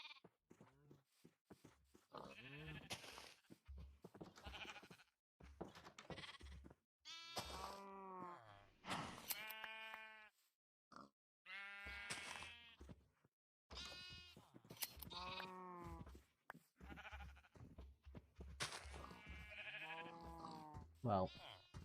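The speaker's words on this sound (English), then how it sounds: "the sheep situation won't be out of hand for a bit." Sheep in the Minecraft video game bleat over and over, a dense run of wavering, overlapping bleats filling the whole stretch at a fairly close, steady level.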